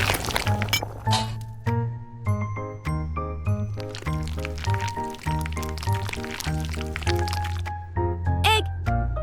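An egg cracked for miniature cake batter, a brief crisp crack and a soft squish close up, set against continuous bright music.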